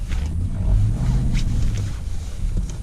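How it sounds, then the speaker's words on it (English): A rear-wheel-drive Dodge Durango R/T engine roars steadily while drifting in snow, with a deep, rumbling exhaust, loud and close, under wind noise. "Hear the exhaust."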